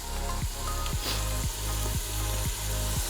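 Minced garlic and fresh thyme sizzle in hot fat in an Instant Pot, a steady close crackle with a deep regular pulsing hum beneath and a soft clink of a utensil.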